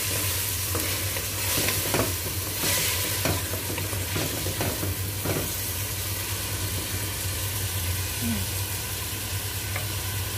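Vegetables with onion and tomato fry in a hot pan and are stirred, giving a steady loud sizzle throughout with scattered scraping clicks from the stirring, up close and with no talking.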